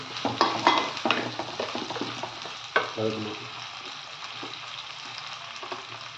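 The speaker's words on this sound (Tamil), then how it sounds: "பச்சை மிளகாய், வெண்டைக்காய், மாங்காய், இது எல்லாத்தையும் போட்டு நல்லா கொஞ்சம் நேரம் வதக்கணும்" Green chilies, okra and raw mango being sautéed in a clay pot for a traditional fish curry: a bright sizzle with scraping stirs and a few clinks of a utensil early on, easing into a calmer, steady frying hiss.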